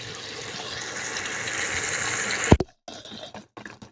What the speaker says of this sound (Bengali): তারপরে দিয়ে দেবো পানি